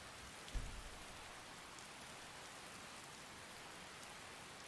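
Steady rain falling in the video game Skyrim, a soft continuous hiss that stays even throughout, with one brief low thump near the start and no voices.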